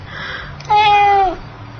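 A single short meow from a thin black cat, used as a radio drama sound effect, rising and falling over about half a second and sounding close and clear against a quiet background.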